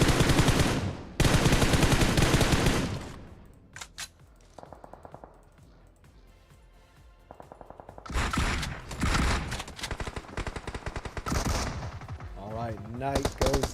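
Gunfire in a competitive video game match, with loud bursts of rapid automatic shots at the start, sparser scattered shots in the middle, then heavy sustained firing again, while a commentator talks over it.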